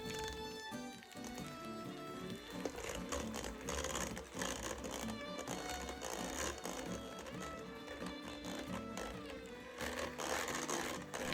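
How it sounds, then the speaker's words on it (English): An electric mixer blends cookie dough for carrot cake cookies, a steady whirring motor with rhythmic clattering of beaters in the bowl, fairly close and continuous with slight changes in speed. "then gradually increase to medium-high until everything is blended together well."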